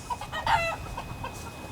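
Several chickens cluck in short, scattered bursts nearby, moderately loud, with no one talking.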